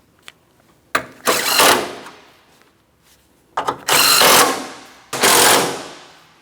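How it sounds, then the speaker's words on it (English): Bolts on the crossover tube hardware of a 2004-2008 Pontiac Grand Prix are tightened with a power tool, giving three loud, close bursts of whirring about a second each, separated by quiet pauses. "Now we can tighten all three pieces of hardware."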